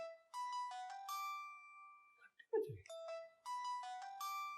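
A phone ringtone plays a repeating electronic melody of bright tones, pauses briefly for a short voice, then resumes at moderate volume.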